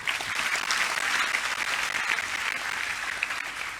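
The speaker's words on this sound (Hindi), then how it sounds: "इन सब का ताली बजा के हम स्वागत करेंगे" An audience at a spiritual discourse claps steadily to welcome a returning guest, a close, continuous burst of applause lasting a few seconds with no talking over it.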